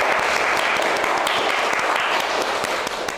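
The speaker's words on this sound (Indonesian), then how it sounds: "Tepuk tangan semuanya teman-teman." Audience applause at an Indonesian talk session on balancing academics, organizations and social life, a steady dense wash of clapping that holds evenly throughout.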